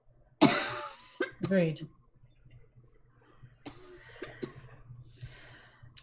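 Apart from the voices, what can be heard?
person coughing from tent smoke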